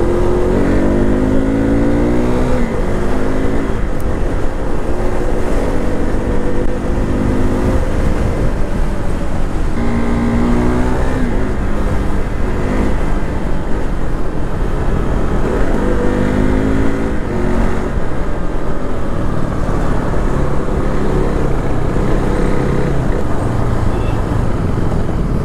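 A KTM RC 390 motorcycle rides through city streets in the evening, its engine droning steadily with rising and falling revs as it shifts through the gears, set against continuous traffic and road noise.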